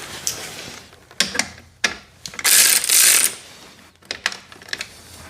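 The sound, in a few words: loosening motorcycle muffler clamp with a ratchet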